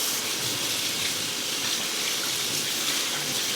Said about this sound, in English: You just gotta rinse them very well